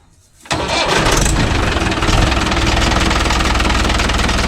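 A Mahindra 575 DI tractor diesel engine with a faulty silencer and an iron spring fan turns over and catches at about half a second, then runs steadily and loud with a rough, rattling drone.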